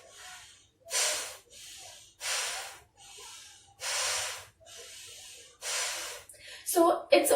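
Yogic pranayama breathing during a relaxation exercise: a steady rhythm of audible breaths, louder airy inhalations alternating with softer exhalations about every second, close to the microphone, with a brief stir at the end.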